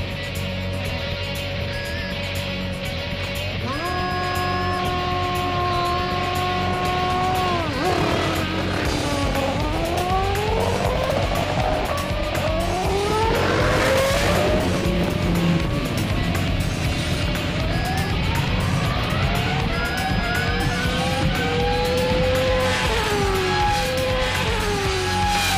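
An F1 car, a superbike and a power boat race over a quarter mile, their engines wailing loudly and continuously with rising and falling pitch sweeps as they accelerate and shift, several machines overlapping.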